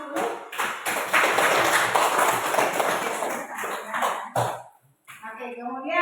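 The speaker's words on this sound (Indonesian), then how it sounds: "Oke, kita beri aplaus dulu." Classroom of students in a physics lesson giving a round of applause for a correct answer, with loose, uneven clapping building quickly and tapering off, followed by a short pause and a teacher's voice.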